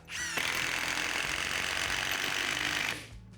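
A Procraft Industrial cordless impact driver set to third speed runs in one continuous, loud, dense mechanical hammering buzz for about three seconds, then winds down abruptly.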